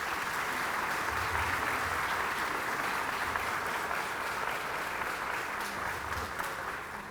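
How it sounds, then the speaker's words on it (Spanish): A large audience at a government census results presentation in El Salvador applauds census contractors, sustained, even clapping lasting the full stretch at moderate level, with no speech over it. "pido también un aplauso para ellos"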